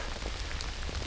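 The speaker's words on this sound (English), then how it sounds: "it's a pretty consistent rain now coming in" Steady rain patters on a bush shelter in the Australian winter, a constant dense hiss of drops with no voices, close and even throughout.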